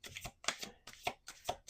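Tarot cards shuffled on a table in several quick, crisp riffling bursts, each a short rustle of cards slapping against each other, close and fairly quiet.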